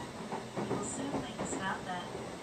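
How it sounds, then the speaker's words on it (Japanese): Kintetsu limited express Aoniyoshi train running near Kintetsu Tambabashi Station, passing under the Keihan Main Line: a steady, moderately loud onboard rumble with faint rail clatter and a soft hiss, plus brief high tones. "青によしは京阪本線の下をくぐります"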